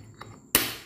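A hammer strikes a bolt on a GL motorcycle engine during manual disassembly, giving two sharp, close metallic taps about a third of a second apart.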